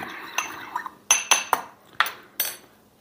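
Spoon clinking and scraping against a bowl while seasoning is mixed for chili lime mahi mahi, about seven sharp, close metallic strikes in an irregular rhythm with no talking.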